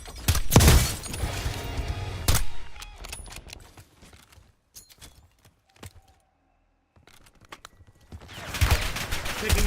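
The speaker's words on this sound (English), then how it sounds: "Taking effective fire." Bursts of gunfire in Black Ops 6: loud clustered shots open the clip, sparse scattered pops and clatter follow through a quieter middle, then heavy firing swells again at the end.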